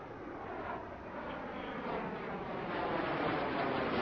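A steady, droning video game airplane engine roars continuously, swelling slightly louder toward the end, with no voices over it.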